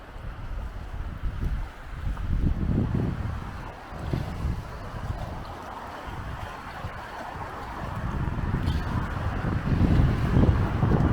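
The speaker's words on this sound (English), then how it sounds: "It is cold and windy out there" Strong, cold mountain wind buffets the microphone with a constant low roar that swells and gusts, with no voices heard.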